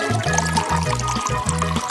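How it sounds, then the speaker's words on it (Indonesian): Chocolate milk and ready-made Starbucks coffee are poured, giving a close, loud, gurgling stream of liquid that bubbles in uneven pulses throughout. "Sekarang kita perlu menuangkan lebih banyak susu coklat dan kopi siap pakai dari Starbucks."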